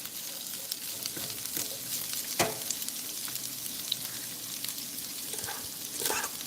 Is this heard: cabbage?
yes